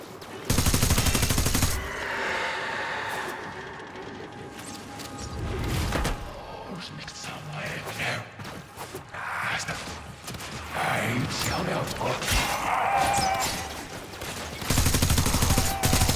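Heavy bursts of Warframe gunfire fill the scene, loud rapid volleys at the start and end with scattered shots and crashes in between, a voice occasionally breaking through.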